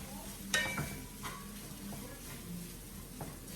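Browned potatoes sizzling and frying in a pan, a soft continuous crackle with a few sharper clinks and stirring scrapes, fairly quiet and close.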